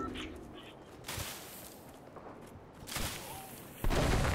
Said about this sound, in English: Shots close by.